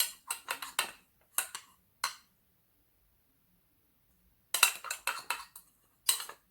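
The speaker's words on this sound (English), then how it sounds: "Mix it well." A spoon clinks and scrapes against a bowl while stirring a homemade rice-based skin mask mixture, in quick irregular bursts of light, close taps separated by a few seconds of silence.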